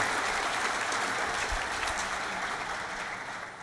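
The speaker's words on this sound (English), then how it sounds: "Let's please give them a big round of applause." An audience applauds at the Hult Prize global finals in London, a dense wash of clapping held steady for a few seconds before easing slightly.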